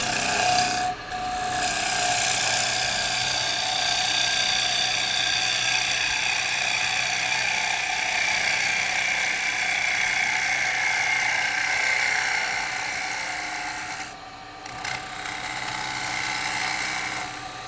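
A carbide tool cuts spinning beech wood held between centres on a lathe, making a steady, loud whirring rasp that runs continuously, broken by two brief drops in sound.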